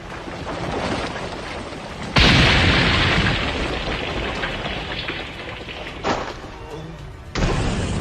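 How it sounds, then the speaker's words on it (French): A massive energy explosion bursts suddenly with a loud, broad roar that slowly decays under a rain-like hiss, followed by two smaller surging blasts near the end. "une explosion d'énergie massive secoua tout le palais"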